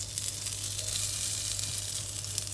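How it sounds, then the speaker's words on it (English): Cauliflower goes into a pan on high heat and sizzles with a steady, bright crackling hiss over a low background hum, near and continuous. "The pan's on high heat at the moment. And I'm going to pop in the cauliflower."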